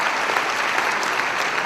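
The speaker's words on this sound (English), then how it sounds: "May we give the government a round of applause" A conference audience applauds the government, steady dense clapping from a large hall crowd filling the short stretch at an even loudness.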